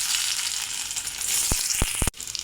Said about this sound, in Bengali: আমি ওই একই তেলে সিদ্ধ করে রাখা আলুগুলো ভেজে নেব।